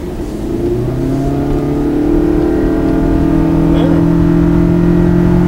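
A hybrid powertrain pairing a Toyota Camry petrol engine with two high-voltage electric motors revs up at a 2013 car conference, its loud tone climbing steadily in pitch with a whine over it, and voices faintly beneath.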